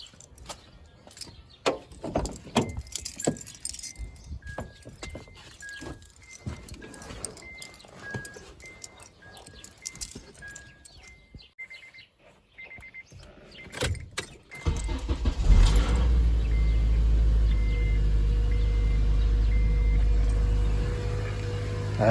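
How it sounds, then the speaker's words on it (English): A 2006 Acura TSX, with a freshly replaced power steering pump, starts up: keys rattle and clicks and chimes sound first, then the engine cranks and settles into a loud, steady idle close by. "So let's go ahead and turn on the car."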